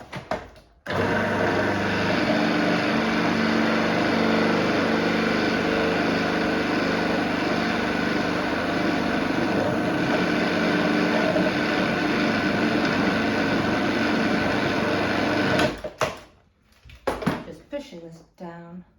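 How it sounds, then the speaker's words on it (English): An electric whisk runs steadily through cookie dough made with margarine, a loud continuous motor whine that holds for about fifteen seconds before cutting off, followed by a few clattering knocks. "I'm just going to whisk that a little bit more, and then you will get your cookie dough"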